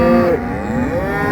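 A Black Angus cow on a Rocky Mountain foothills ranch gives a single loud, close moo that lasts for just over a second, with no other sound around it.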